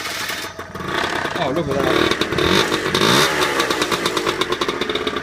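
A Peugeot Speedfight scooter engine fires up after a carburetor service, catching with a rising buzz and then settling into a rapid, pulsing idle. Someone speaks briefly over it.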